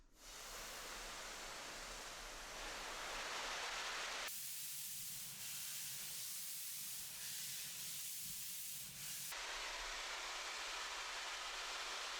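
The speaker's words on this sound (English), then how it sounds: "We'll start right in with the first water spray test." Steady, loud rush of water spraying in an indoor car wash, hissing continuously, shifting in tone midway as the stream changes, with no voices.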